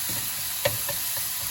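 Garlic and onions sizzle in a frying pan with a steady, moderate frying hiss, broken by a sharp stir or scrape of a utensil in the pan.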